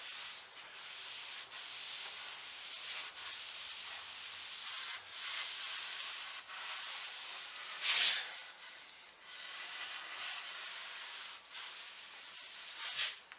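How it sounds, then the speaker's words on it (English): Cloth wiping a vintage walnut farm table top with mineral spirits, a steady near rubbing swish in repeated strokes, with one brief louder scrape near the middle and no talking. "now I'm just wiping it off with some mineral spirits to get the dust out"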